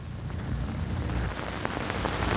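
Steady rain falls across the whole stretch, a dense hiss with scattered faint drop patters, moderately quiet and with no voices.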